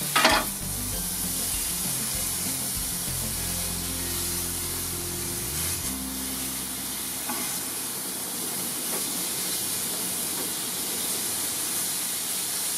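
Thick-cut bacon fries in a pan for winter stew, giving a steady, close broadband sizzle and hiss that carries on evenly throughout with no talk.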